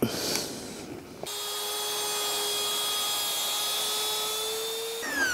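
A saw cuts through reclaimed oak door panels, giving a steady, sustained whine of about four seconds that follows a few brief knocks and handling noises and then stops abruptly, with no one talking.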